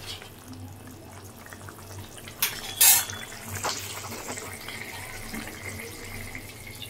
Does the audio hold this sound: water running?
yes